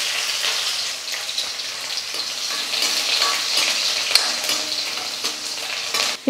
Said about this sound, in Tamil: இந்த பூண்டு சேர்த்துக்கிறேன்.